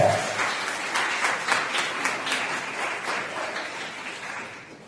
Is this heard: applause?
yes